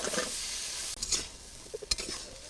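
Malabar spinach stalks and potato pieces sizzle in a hot pan while being stirred, a steady close frying hiss broken by a few sharp scrapes and clinks of a utensil, with no talk.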